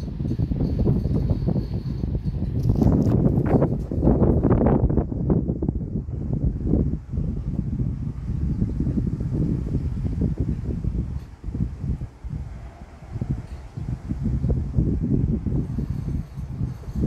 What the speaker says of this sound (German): Oh je, es schlägt der Wind.